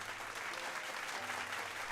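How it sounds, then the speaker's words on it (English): Soft, distant-sounding applause on a livestream, a continuous wash of clapping with a low steady hum underneath, fairly quiet throughout. "Round of applause for some soup."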